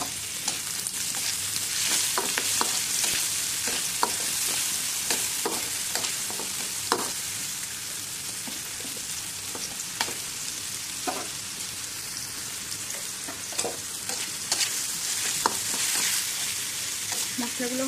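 Onion, tomato, ginger and garlic pastes fry in hot oil, a steady close sizzle punctuated by repeated scraping and tapping stir strokes throughout, with no talking.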